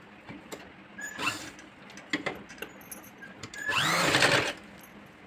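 A sewing machine stitching a princess-cut blouse: short clicks and brief bursts of the mechanism lead into one sustained whirring run of stitching about a second long, close and moderately quiet.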